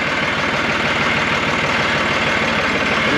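A tractor engine runs in low gear with a steady, even mechanical chug and a rapid low pulse, loud and close, with no voices over it.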